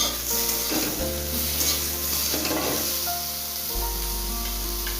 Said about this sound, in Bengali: অনেকটাই ভাজা হয়ে গেছে